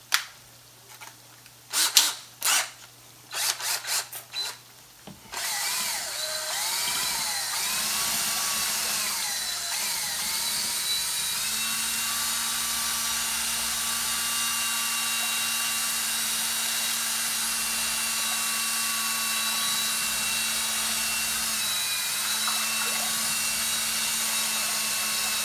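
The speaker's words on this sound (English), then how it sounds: "Let me get my kitchen drill." A handheld electric drill used as a kitchen beater whips seven eggs, starting with a few short revving bursts and then running as a steady, loud, continuous whine that holds for about twenty seconds.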